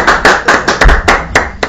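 A few people clap at a live TV show after a drinking challenge ends, the claps loud, close and uneven, about eight to ten sharp strikes with no talking.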